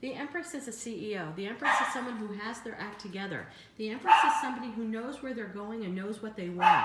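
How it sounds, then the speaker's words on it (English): Dogs bark and yip intermittently in the background, moderately close, mostly under continuous calm speech from someone talking throughout. "Sorry for the dogs in the background."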